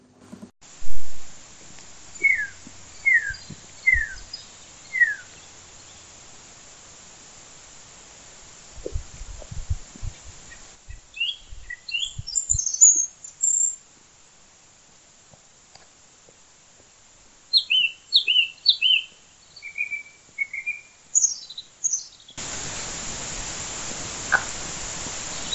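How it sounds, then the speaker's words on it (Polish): Scattered bird chirps in the Gorce mountains, short high trills and calls in small clusters, separated by quiet stretches and some low handling noise. "Posłuchajcie, jak pięknie zwierkają ptaszki."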